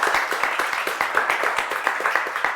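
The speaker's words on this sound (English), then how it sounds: "Yes, please applause." Audience clapping after a film discussion on waste and recycling, a small group producing distinct, fairly close claps in an uneven rhythm for a few seconds.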